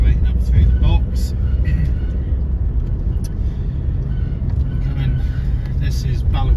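A classic racing motorcycle at the Pre-TT Classic on the Billown road circuit pulls hard from first gear up through the box, a loud, continuous engine roar with rising tones that break and climb again, heard close throughout.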